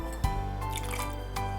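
Lemon juice poured into a glass for a spiced guava lemonade, heard as a short, faint liquid drip and trickle with a soft splash near the start.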